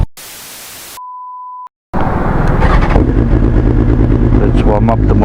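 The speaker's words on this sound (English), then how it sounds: "Let's warm up the motorcycle." A BMW S1000XR motorcycle engine warms up, its loud steady idle rumble starting right after a brief hiss and a short electronic beep, close and continuous to the end.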